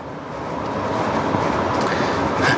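Cabin sound of a Chevrolet Trax 1.4 gasoline turbo compact SUV driving: a constant, fairly loud rumble of engine and road noise that swells slightly toward the end, with no one talking.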